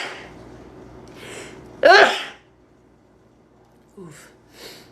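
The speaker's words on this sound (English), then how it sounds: "I have to sneeze." A single sharp sneeze bursts out loudly in a quiet indoor setting, framed by soft breathy sniffs and small vocal sounds.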